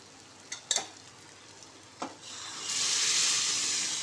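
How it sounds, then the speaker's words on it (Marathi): Dal poured into a pan of cooked onions: a few light clinks of a spoon, then a steady sizzle rising and holding close by, with no talk. "आता आपण डाळ घालून घेऊ"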